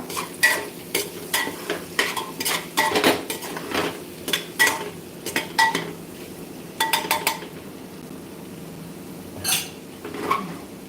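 Val bean pods being stirred into a pan for a Khandeshi dish: repeated scraping and clinking of a spoon against metal in uneven bursts, with a faint sizzle underneath, close and fairly loud, no talking.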